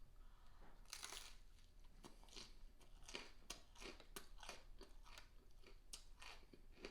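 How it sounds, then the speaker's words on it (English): Close, crisp crunching bites and chewing of a thin, crunchy crust, about a dozen sharp crackles in an irregular rhythm over a faint background, with no talking. "A very nice crunch on that thin crust, those edges."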